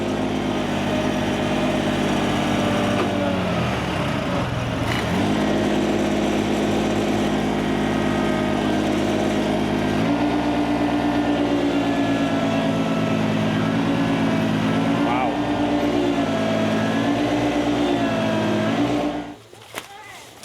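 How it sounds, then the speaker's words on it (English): An ATV and a John Deere 755 tractor pull together in a forestry mulching recovery, their engines droning loudly and steadily, the pitch rising and dipping under strain, before both cut off abruptly near the end. "we got the ATV, the John Deere 755, all pulling at once"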